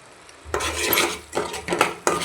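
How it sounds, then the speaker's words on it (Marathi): Masala is stirred and roasted in a pan for mutton curry: a metal spoon scrapes and clanks against the pan in three distinct bouts, close and clear, with a faint sizzle beneath. "मिक्स करून चांगलं भाजून घेऊयात."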